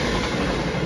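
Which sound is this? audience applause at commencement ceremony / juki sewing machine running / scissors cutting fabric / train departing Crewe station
train departing Crewe station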